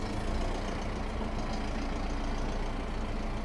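A 2016 tractor pulling a spring-tine chisel cultivator across rough, uneven farmland runs with a steady, loud, close diesel drone and a low rumbling undertone, with no pause or change throughout.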